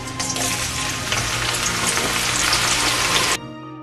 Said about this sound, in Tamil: பட் நான் வந்து இதை டீப் ஃப்ரை பண்ணி தான் எடுக்கிறேன்.